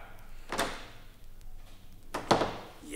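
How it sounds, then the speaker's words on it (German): Two gentle door closings come about two seconds apart, each a brief muted thump with a light latch click, close by in a quiet room with no one talking. "Ich musste die Tür leise zumachen."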